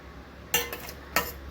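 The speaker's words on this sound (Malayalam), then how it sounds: "നല്ലൊന്ന് ഇളക്കി കൊടുക്കുക." A spoon stirs lady's finger curry in a metal pot with two brief scraping clinks against the pot, separated by a quiet pause and heard up close with no talking.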